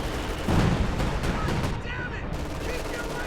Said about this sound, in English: I hear time on target artillery somewhere